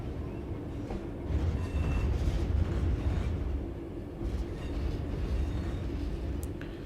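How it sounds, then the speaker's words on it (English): In the Train Sim World 4 video game, a railhead treatment train rumbles past with a low, steady roar. It swells and eases over several seconds. "railhead treatment train just coming in as well"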